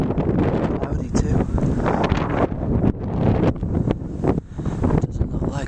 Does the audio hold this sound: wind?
yes